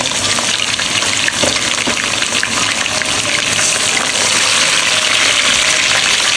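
Raw chicken, about a kilogram, hits hot frying onions in a pan for a Kabuli pulao, giving a steady, loud, close sizzle with a broad hiss that stays unbroken throughout.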